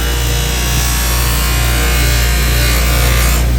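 A buffing wheel polishes a briar pipe stem treated with oxidation remover and wax, giving a steady, loud, continuous whirring rub with a low motor hum throughout, alone without talk.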